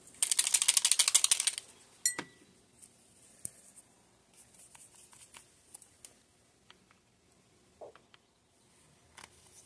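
Army Painter hobby paint bottles shaken hard by hand, a fast rattling burst of agitator balls for about a second and a half, then a sharp knock and sparse clicks and taps as bottles are handled in a quiet room.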